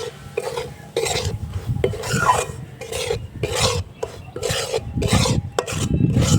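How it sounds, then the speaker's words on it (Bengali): Semolina toasting in ghee over low heat is stirred in a pan, producing repeated rhythmic dry scraping strokes about once a second, close and fairly loud, with a soft sizzle beneath. "হালকা আগুনে সুজিটা ভাজবো"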